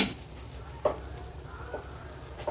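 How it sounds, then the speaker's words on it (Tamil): Grated coconut sautéing in a pan for Tamil neer urundai, a steady soft sizzle with a few brief scraping stir sounds, close and moderately quiet, no voices. "இந்த தேங்காயும் இதிலே போட்டு அப்படியே ஒரு வதக்கு வதக்கலாம்"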